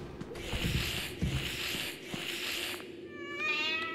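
A cat meowing in the video game Five Nights at Freddy's: Into the Pit, three or four repeated mews over a low background hum, ending in a brief higher tonal cry.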